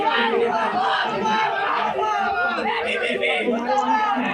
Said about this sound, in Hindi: छात्र अभी यहाँ पे संगठित हो गए हैं और ये गार्ड के खिलाफ और NSUI के खिलाफ नारेबाजी कर रहे हैं।